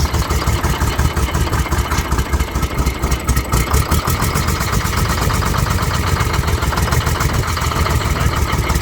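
An old Detroit diesel engine on a 65-year-old crawler runs steadily after a restart, a loud, close, continuous rhythmic chugging with no talk over it.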